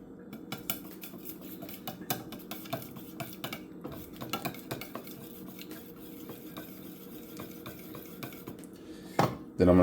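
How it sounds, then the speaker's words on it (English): A whisk beating heavy cream into egg yolk in a bowl, giving a quick, fairly quiet run of rhythmic clinks and scrapes against the bowl that continues steadily, with a louder knock at the end. "I'm gonna add 2 tablespoons of heavy cream to this yolk. Then I'm gonna whisk this together."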